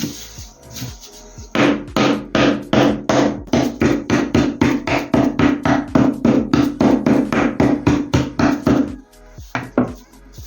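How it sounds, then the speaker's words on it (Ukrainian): Rapid, rhythmic hammer blows crack hard candy, dozens of sharp close knocks in a steady beat that slows and stops. "Я беру цукерку, закарамелізований кунжут, розбиваю молоточком."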